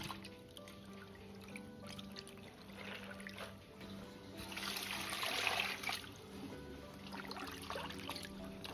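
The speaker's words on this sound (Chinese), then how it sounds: "接下来把泡透的海带清洗干净" Soaked kelp is rinsed under running water, a soft continuous trickle and splashing with occasional drips and a brief louder gush midway, fairly quiet and close.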